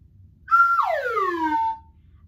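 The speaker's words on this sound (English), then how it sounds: "The instrument I am holding in my hand is called a slide whistle." A handheld slide whistle gives one clear blown note that swoops from high to low as the slide moves, then holds briefly before fading, loud and close with nothing else over it.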